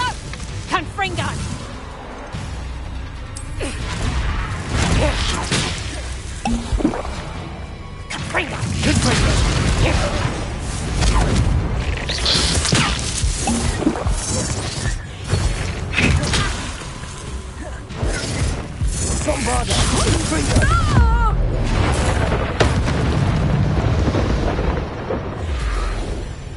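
Confringo fire spell blasts in the video game Hogwarts Legacy, loud repeated bursts and whooshes layered over busy combat noise, music and character voices throughout.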